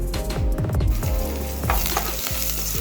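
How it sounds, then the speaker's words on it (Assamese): Oil sizzles and crackles loudly and continuously in a pan while frying, with a few soft stirring sounds mixed in. "এতিয়া আমি এই তেলকণতে এইকণ ফ্ৰাই কৰি ল'ম"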